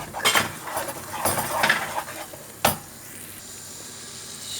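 Meat sauce for patlıcan beğendi cooks in a pan with a sizzling undertone while a utensil scrapes and clacks against the metal in a few sharp strokes, the last one loud, then a quieter steady sizzle.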